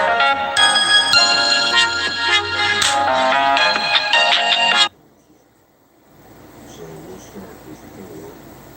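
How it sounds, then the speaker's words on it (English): A house phone rings loudly with a repeated electronic melody for about five seconds, then cuts off, leaving faint room noise after a scam call. "That's what that was, just a scam phone call."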